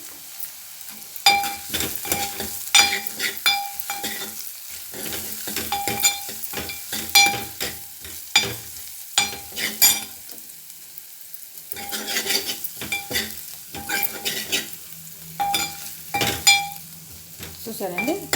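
Spices fry and sizzle in a pan for a bottle gourd and tomato curry while a utensil scrapes and stirs them in steady, close strokes that clink against the metal, with brief pauses between bursts.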